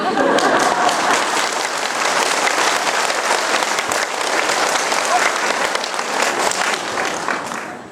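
An audience at a Catholic Church social welfare spirituality education session in Incheon applauds, dense steady clapping from many hands filling the room, fading out at the end.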